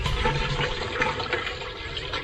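Liquid pouring into a garden sprayer tank during a refill, a steady close gurgling splash that fills the whole clip without pause.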